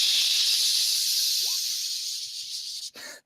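A voice imitates a sizzling sound with a long, steady, breathy hiss held close to the mouth, fading slightly before a brief break and a final burst of hiss.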